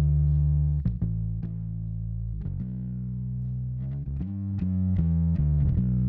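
Fairchild tube compressor with its headroom raised, adding a little more distortion and saturation to a sustained harmonic instrumental line that has periodic sharp attacks, loud and close, with no talking.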